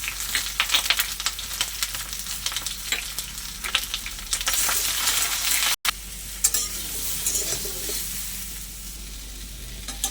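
Continuous oil sizzling as sliced pointed gourd fries in a pan with salt and turmeric, with occasional stirring scrapes and a brief cut midway.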